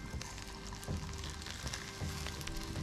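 Coral trout sizzles on top of a damper over the heat, a dense continuous frying crackle with small pops, steady and close throughout.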